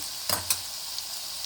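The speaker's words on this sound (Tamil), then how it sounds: "இப்போ இதில் நாம் முட்டையை உடச்சி ஊற்றிக்கலாம்" Eggs crack into a pan of sizzling onion masala for an Andhra-style egg curry, two sharp taps and splats landing over a soft, steady frying hiss.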